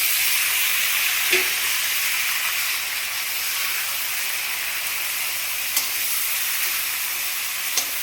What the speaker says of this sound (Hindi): तो अब ये फ्राई होगी अच्छे से।